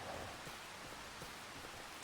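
Steady rain falls across the Riverbend Springs farm map in Farming Simulator 25, an even hiss of heavy downpour that runs unbroken and fairly loud, with no voices.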